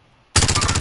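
Automatic gunfire in Call of Duty bursts in suddenly after a near-silent moment, a loud rapid rattle of shots that continues to the end.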